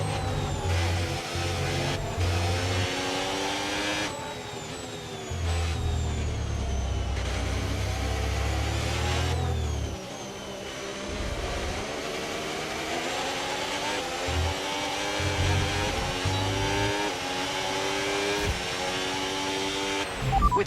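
Formula 1 car engine from the F1 25 racing game at Shanghai International Circuit, a loud continuous droning whine with pitch rising and falling through gear changes, lifting and dropping in steady waves without speech.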